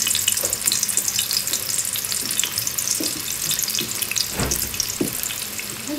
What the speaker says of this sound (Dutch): En ik ga nu in de olie bakken.